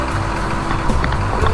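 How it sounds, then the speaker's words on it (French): A new farm tractor's engine running in a mowing setup, a low rumbling diesel drone with rough broadband clatter heard close, steady throughout the short moment with a few faint knocks. "Franchement très beau tracteur"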